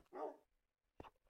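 A dog barks twice in the Minecraft Crafting Dead game, two short separate barks close by with a brief pause between them and no talk over them.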